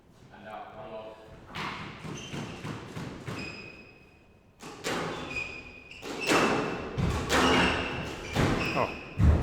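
Squash ball cracking off the walls and racket during a fast Unsquashable Premier League match, sharp thuds and squeaks repeating in quick rallies, up close, with commentators talking over much of the action.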